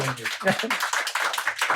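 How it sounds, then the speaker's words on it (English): Live audience in a New York City venue clapping for the book's artist, a brief burst of applause with voices mixed in over it. "let's give him a round of applause for that"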